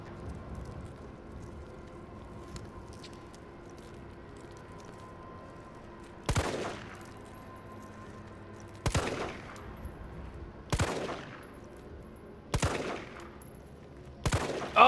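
Gunfire in the Resident Evil 3 Remake video game: five sharp, loud shots spaced a second or two apart over a low ambient game background, with no talking.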